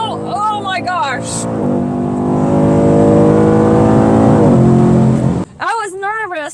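A 2023 Mustang GT Premium with performance exhaust revs hard on a snowy, slick road with its tires spinning, a loud sustained engine roar rising in pitch, with people talking before and after.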